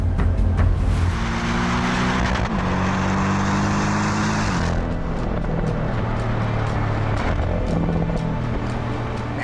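A Porsche 718 Boxster S being driven on a public road, its engine note steady and close with a strong rise early on, then settling into an even cruising drone.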